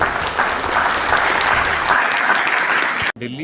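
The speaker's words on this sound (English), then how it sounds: "A huge round of applause, please." An audience at a university international conference on drug research claps loudly and continuously, a dense close applause that cuts off abruptly near the end, with a voice briefly heard after.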